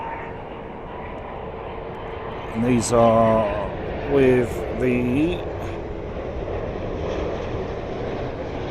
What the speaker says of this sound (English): Virgin A330ceo coming in now